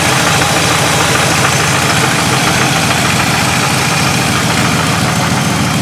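A warmed-up Chevy S10 truck engine idles steadily and loudly close by, a dense continuous rumble with a faint repeating tick that can be heard through the drone.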